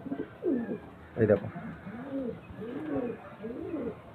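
A male pigeon with red plumage coos in repeated low, rolling phrases, close and steady, while someone speaks briefly over one call.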